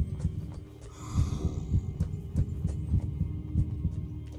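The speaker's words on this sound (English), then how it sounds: "Because my heartbeat." A steady heartbeat effect from Minecraft's Decked Out 2 dungeon: low, muffled double thumps repeating at a quick, even pace, close and prominent over a faint ambient hum.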